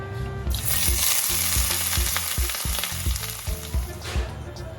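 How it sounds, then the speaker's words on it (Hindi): Mixed vegetables dropped into hot mustard oil sizzle loudly and continuously in a pan for street-style noodle wraps, with the steady crackle of frying and occasional stirring knocks, close up and with no talking. "यहाँ हमारा सरसों का तेल अच्छे से गर्म हो चुका है। मैं इसमें डाल देती हूँ मनपसंद वेजीज।"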